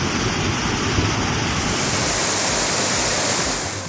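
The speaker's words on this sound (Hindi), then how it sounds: "पानी का ये जोर और शोर बता रहा है कि बादल फटने के बाद कैसे कुदरत कोहराम मचाती है।" Floodwater surges after a cloudburst in Kullu, Himachal Pradesh, a steady loud broadband roar of rushing water with no speech.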